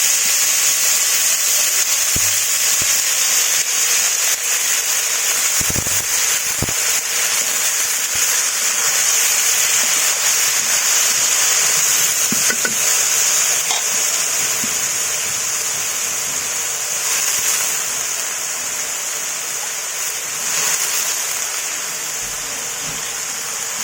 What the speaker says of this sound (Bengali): এখন দিয়ে দেবো কেটে ধুয়ে রাখা সবজি।